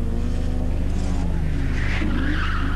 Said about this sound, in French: Lietard en dérapage